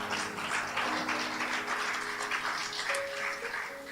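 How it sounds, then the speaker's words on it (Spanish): A church congregation applauds steadily during a Spanish-language sermon on marriage, a dense wash of clapping that holds for several seconds, with a faint sustained tone rising in the background near the end. "Denle un aplauso al Señor."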